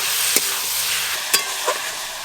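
Tomato masala with chilli and turmeric powder frying in a pan, a bright steady sizzle with a few sharp spatula scrapes and clicks against the pan.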